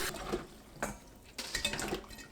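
Dried jujubes being rinsed in water, with splashing and sloshing in a bowl or sink in several short bursts, close and fairly quiet, with faint clinks of dishes.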